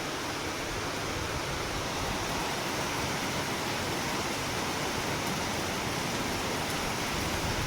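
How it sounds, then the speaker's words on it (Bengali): Heavy rain pours over a town in a dense, unbroken roar of hiss that stays loud and steady throughout, with no voices. "দেখো এমন বৃষ্টি হচ্ছে, গোটা শহরে একদম অন্ধকার করে দিয়েছে"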